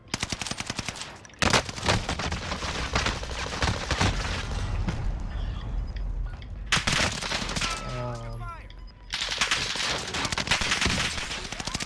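Video game gunfire in a Fortune's Keep squad match, long bursts of rapid machine-gun fire broken by short gaps, with a few quieter stretches where distant shots and faint voices come through.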